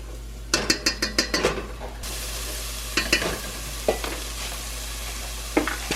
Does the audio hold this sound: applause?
no